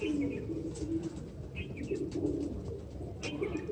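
Flying pigeons, a male and a female, coo softly in a quiet, repeated rhythm beside faint chirps and low background noise.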